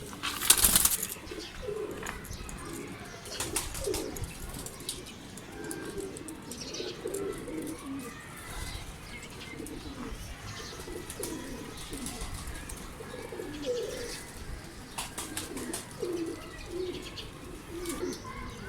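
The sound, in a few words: pigeons cooing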